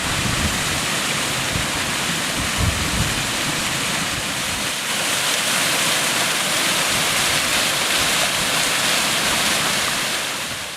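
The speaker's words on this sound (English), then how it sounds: "Some lovely little waterfalls in the little gorge here." Small waterfalls tumble through a little gorge along a burn on a hillside, a continuous, close rushing of water with broad steady splashing and some wind buffeting the microphone.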